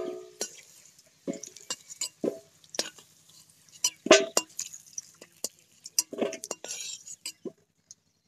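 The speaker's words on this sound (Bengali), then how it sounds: "আলুগুলো আমার ভাজা হয়ে গেছে। এবার আমি এগুলো তুলে নেব।" Fried potatoes lifted out of a pan in a Bengali home kitchen, a series of sharp metal clinks and scrapes of a spatula against the pan, irregular and close, with quiet gaps between them and no speech.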